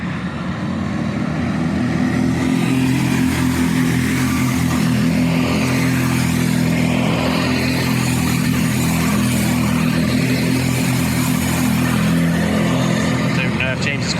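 Racing karts on their final lap of a track event roar continuously with a steady, loud engine drone and harmonic whine, under commentary-like speech throughout.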